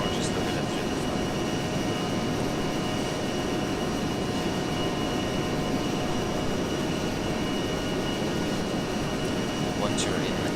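A-10C jet in the ArmA 3 video game accelerating down a runway, a constant dense engine roar with steady whine tones held evenly throughout, with no talk over it.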